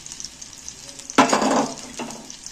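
Egg yolks drop into a hot pan in an egg and potato dish, each bursting into a sharp sizzle. Two hisses come close together, the first loud and sudden, the second softer, over quiet cooking noise.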